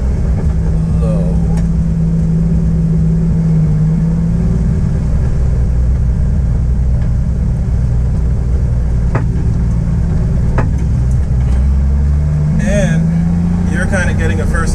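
Inside a very low car with a 2JZ engine and custom exhaust, a loud, steady low drone fills the cabin throughout, with a driver talking over it and brief rises in engine pitch near the end.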